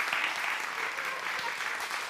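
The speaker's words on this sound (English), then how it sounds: "Accept the applause." A church choir performance draws warm audience applause: dense, continuous clapping that stays steady and fairly loud for about two seconds, with no break.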